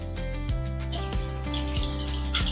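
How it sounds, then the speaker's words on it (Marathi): Water streams steadily into a pot of Malvani surmai fish curry, a continuous close pour lasting a few seconds with no talking. "चांगला मसाला मच्छीला लागला की आपण त्याच्यात थोडं पाणी घालूया।"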